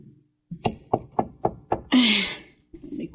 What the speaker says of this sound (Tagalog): May kumakatok.